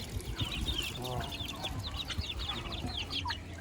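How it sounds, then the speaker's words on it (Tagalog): Chicks and a couple of young turkeys hatched together in a backyard, chirping in quick, high overlapping peeps, with a brief lower fowl call midway, close by under steady outdoor background noise. "Yung mga sisiw. Ayan, mga sisiw din yan."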